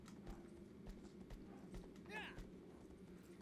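Horse hooves clip-clopping in Shadow of the Colossus, a faint uneven run of soft thuds under ambient game sound, with a brief whinny-like call partway through.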